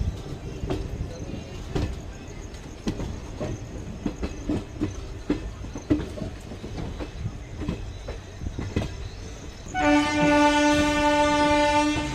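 A Somnath Jabalpur Express train rolls through Jabalpur station with rhythmic clattering wheels over rail joints, then a long, loud horn blast near the end.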